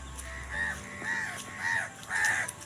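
Outdoors, crows give four clear, evenly spaced caws, moderately close and distinct above a low background rumble, with no voices present.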